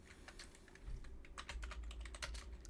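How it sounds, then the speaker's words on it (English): Close, quiet clatter of typing on a computer keyboard, irregular bursts of key taps that grow denser in the second half, with no voices. "Why am I typing in caps?"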